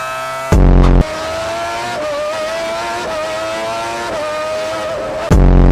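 A Ferrari Formula 1 race car engine screams at very high revs, a loud, steady, piercing whine with quick upshifts and downshifts, close to the listener and heard alone.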